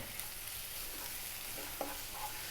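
Chili powder, coriander, cumin and turmeric being stirred into a pan of oil for fish curry, a soft steady sizzle with a few light scraping clicks, close and quiet, no talking.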